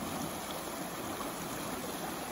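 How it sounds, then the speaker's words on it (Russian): Spring river water gushing from a large pipe, a dense, steady roaring rush with no pauses or voices. "Посмотрите, сколько же кубометров воды выливается."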